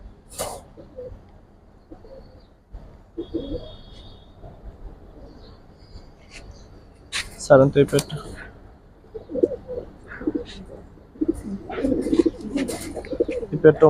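A pair of red pati pigeons in a loft coo softly in short, intermittent low phrases, with louder bursts later on. People talk nearby throughout.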